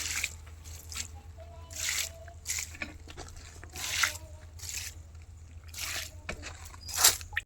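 Organic liquid fertilizer is poured in short repeated bursts onto fruiting chilli plants, splashing and trickling onto soil and leaves at close range, with quiet pauses between pours.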